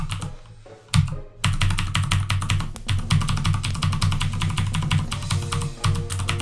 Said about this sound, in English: Apologies in advance for my extremely loud keyboard.